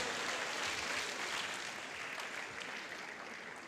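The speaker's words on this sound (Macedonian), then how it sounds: "ги поздравам со еден аплауз" Applause at the Zlatna Bubamara 2017 event, a steady wash of many hands clapping from an audience, fairly faint and gradually tapering off.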